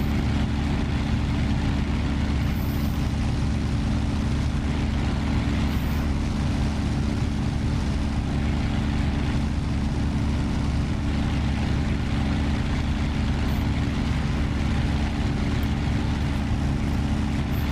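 A steady, droning radial piston engine of an F4U-1 Corsair in the DCS flight simulator runs continuously at a constant pitch, loud and alone, with no talk.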